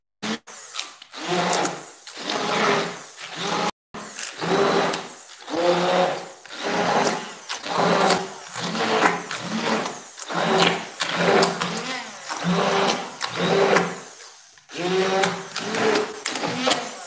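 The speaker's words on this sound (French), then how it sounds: "Là, on mixe." Blender mixing an aubergine dip, a motor whirring in repeated pulses of a second or two each, separated by short pauses, close and fairly loud.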